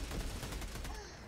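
A short burst of rapid gunfire from the Helldivers 2 video game, dense overlapping shots, brief and moderately loud.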